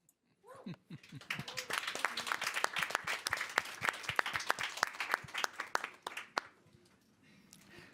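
An audience applauds after a presentation. Steady, fairly soft clapping from many hands swells after a brief voice, holds for several seconds, then tapers off, heard from some distance in a large room.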